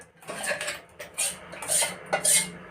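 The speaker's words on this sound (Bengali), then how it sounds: "এবার আমি এই বাটিটার মধ্যে ঢেলে নিচ্ছি।" Ground rice paste for chakli pitha is poured from a mixer jar into a bowl, marked by a few sharp clinks and scrapes of a spoon against metal and ceramic, with quiet pauses between them, close by.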